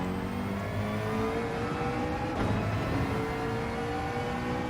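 A McLaren race car engine in Gran Turismo 7 drones steadily at close range, holding a sustained whirring, revving tone with a brief swell midway and no talk.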